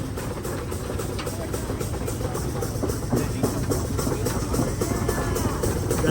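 Engine of a 1951 Mighty Mouse tractor passing in an antique tractor parade: a steady, low idling chug with rhythmic knocking pulses, moderately close and constant throughout.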